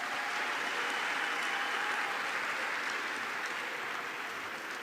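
Steady, dense applause from a large audience at the closing ceremony of a youth summit in Kigali, Rwanda, a continuous wash of clapping held at an even level throughout.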